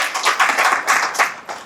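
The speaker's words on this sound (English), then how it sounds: "Give yourselves a round of applause." An audience claps for under two seconds, a small scattered burst of hand claps at moderate volume that thins out toward the end.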